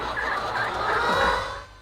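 Chickens on a farm in Uganda cluck and gobble together in a dense, loud flock chorus that fades slightly at the end, no talking.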